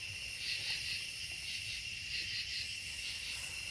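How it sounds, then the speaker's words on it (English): Crickets, frogs and other bugs chirp outdoors on a chilly evening, a dense continuous high trill that stays steady throughout with no talking. "the bugs are going nuts, all the frogs and bugs"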